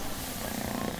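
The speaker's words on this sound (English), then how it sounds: "That's him purring." A kitten's purr rumbles low and steady at close range, a continuous soft vibration with no voices over it.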